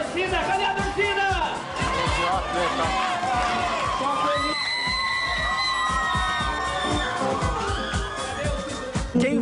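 Studio audience on a Brazilian TV variety show cheering, whooping and shouting in a loud, continuous roar with children's voices mixed in, steady throughout with bursts of whistling and chatter.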